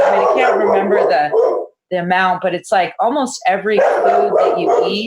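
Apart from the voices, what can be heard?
dog barking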